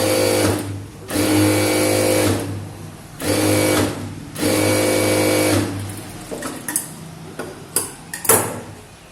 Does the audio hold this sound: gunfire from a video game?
no